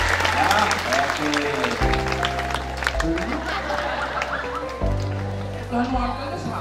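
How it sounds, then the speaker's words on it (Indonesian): Students at a school disaster-preparedness session clap their hands in sustained applause, loud and close, as a speaker talks over it and the clapping fades out near the end. "Tepuk tangan dulu."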